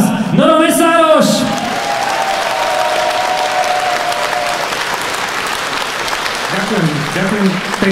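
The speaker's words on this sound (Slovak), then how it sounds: "ja si naozaj bárom ani tento potlesk nezaslúžim" Sustained audience applause at a live concert in Topoľčany, dense and even clapping throughout, with a shout at the start and someone speaking over the clapping near the end.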